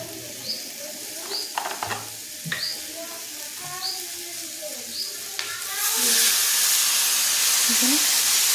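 Masala with tomatoes cooking in a home kitchen pan hisses into a loud, steady sizzle as water is poured in, after softer stirring scrapes and clinks.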